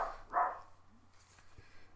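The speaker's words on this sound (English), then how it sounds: "That's our dog barking at somebody a long way away," A dog barks at someone a long way off, three sharp, distant-sounding woofs spaced out across two seconds over a quiet, low background hum.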